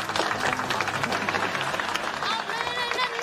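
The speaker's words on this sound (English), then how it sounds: "Keep clapping" Studio audience applause at a sitcom taping, a steady dense wash of clapping with some cheering, loud and continuous throughout.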